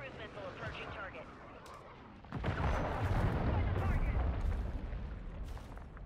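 A cruise missile strike in the Modern Warfare 3 video game hits with a sudden loud boom about a third of the way in, then rolls into a long, rumbling crackle of debris and gunfire, with voices underneath.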